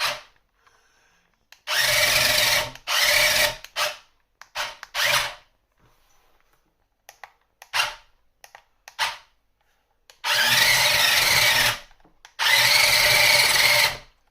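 JJRC Q137 8x8 amphibious RC skid-steer vehicle on a 7.4 V battery, its motors giving loud whining buzzes in repeated bursts of one to two seconds, with short quiet gaps between runs.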